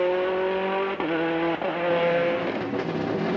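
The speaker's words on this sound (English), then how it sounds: "The Hertz car negotiates the Bangor hairpin beautifully" A Ford Escort World Rally Car takes the Bangor hairpin on the 1999 Circuit of Ireland, its engine loud and close, revving hard with rising and falling pitch through gear changes, no voices over it.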